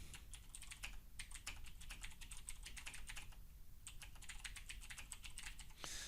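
Rapid, continuous typing on a computer keyboard while text goes into a web page builder, the keystrokes close and steady with brief pauses, no voices present.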